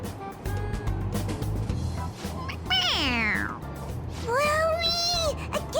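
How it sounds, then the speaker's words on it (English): Two drawn-out, wavering meows come from a toy cat pressed on the head in the video game Persona 5 Royal. The meows are clear and close over low background game ambience. "It meows when you press on its head."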